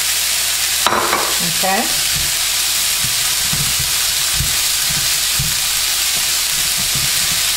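Plain fried rice sizzling and frying in a hot pan, a loud steady hiss with repeated scraping stirs of a utensil; a brief voice speaks near the start.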